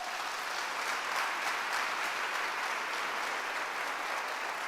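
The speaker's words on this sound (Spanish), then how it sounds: "dale un fuerte aplauso al Señor" A congregation at a Spanish-language church service claps together in sustained, even applause that fills the whole stretch at steady volume, with no voices standing out.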